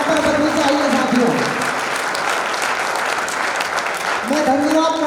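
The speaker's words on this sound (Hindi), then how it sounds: "आपकी तालियां हर एक नाम पर बजनी चाहिए साथियों" Crowd applause at a company celebration event as founders are honoured, a loud, dense wash of clapping with a voice speaking over it at the start and again near the end.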